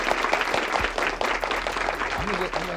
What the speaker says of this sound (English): Applaud me, damn it.